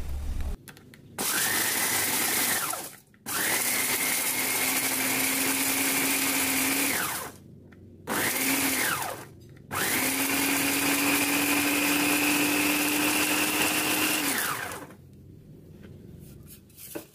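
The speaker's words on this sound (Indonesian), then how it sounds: "Haluskan daun jeruk dan bawang putih yang sudah digoreng kering." A blender grinds fried kaffir lime leaves and garlic in four loud whirring bursts, two short and two long, each with a steady motor whine and brief pauses between them.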